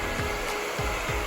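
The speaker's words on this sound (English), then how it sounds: "Why the hairdryer, you ask?" A hair dryer blows with a loud, steady whir in a kitchen where a conference breakfast is being prepared, with a few soft rhythmic thumps and no talking.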